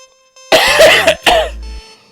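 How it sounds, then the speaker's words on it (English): A man gives one loud, close cough as a forced throat-clearing burst, then a second shorter hack right after, with a low hum underneath and quiet room tone before and after. "Should I cough one more time before we go?"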